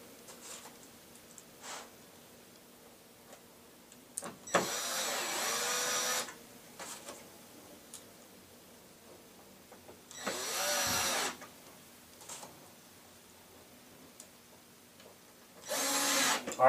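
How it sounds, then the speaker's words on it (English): Three separate bursts of a power drill whirring steadily as it drives screws into pre-drilled holes in an interlocking metal bracket for a lazy Susan cabinet, each lasting a couple of seconds, with quiet pauses between. "The holes are already pre-drilled, and you just anchor the screws down."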